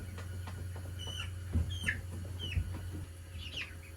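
Backyard chickens bred selectively cluck and squawk in short, close, fairly loud bursts against a steady low hum, with several calls rising and falling over a few seconds and no one talking.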